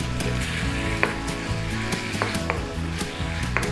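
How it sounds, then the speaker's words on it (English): Mussels stir-frying in a hot pan with chili and sweet basil sauce, a steady loud sizzle with scattered sharp clicks of a utensil scraping and tossing the shellfish, no talking. "Get our mussels in there, get them in there, start them cooking down a little bit, fully incorporated in there."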